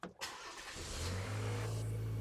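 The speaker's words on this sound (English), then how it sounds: "Let's start the truck up." A GMC Canyon pickup truck engine starts with a brief crank, then catches and settles into a steady low idle hum, close and moderately loud with no talk.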